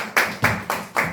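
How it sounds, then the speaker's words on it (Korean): A church congregation clapping at a Sunday worship service, four sharp, evenly spaced claps in unison, close and loud. "우리 그 하나님께 다시 한번 박수 영광 돌립시다."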